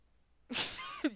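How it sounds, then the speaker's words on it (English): A single sharp sneeze bursts out after a moment of quiet, followed by a quick breathy catch at the end. "You're sneezing a lot."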